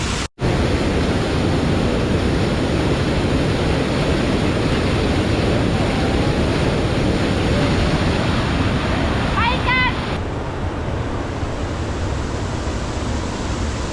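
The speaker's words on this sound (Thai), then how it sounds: "ได้ยินเสียงน้ำตก" Steady, loud rushing water roars continuously throughout at the Seven Colors Waterfall in Bueng Kan, Thailand, with faint chirps briefly audible near the end.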